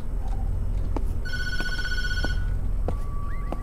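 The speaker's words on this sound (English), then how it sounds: "Don't answer the phone." Telephone bell ringing inside the horror video game Tattletail, a steady electronic ring with repeated bursts over a low background hum, fairly loud and close with no talking.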